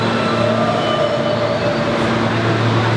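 A subway train runs near Fort Hamilton in Brooklyn, giving a loud, steady rumble with a sustained wheel hum and a faint high squeal throughout, with no talking.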